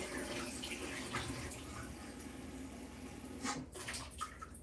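Water runs from a tap into a pot, as the first step in soaking fruit for a Jamaican Christmas rum cake; it makes a fairly quiet, continuous splashing stream that is briefly disturbed near the end.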